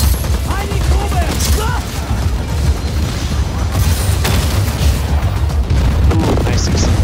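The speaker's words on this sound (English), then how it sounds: "Ooh, nice explosion." Explosions and rumbling blasts amid shotgun gunfire in a chaotic first-person shooter battle, loud and continuous, with broadband booms and crackling debris throughout, filling the scene under a dense wash of combat noise.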